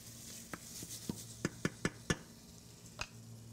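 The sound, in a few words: rice stirred and fried in oil in a pan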